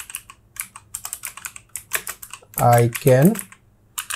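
Rapid clicking of a computer keyboard as a prompt is typed in, with irregular keystrokes running throughout and a short spoken phrase breaking in partway.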